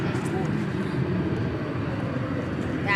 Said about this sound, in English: American Flight 312 is off and rolling to San Jose, California.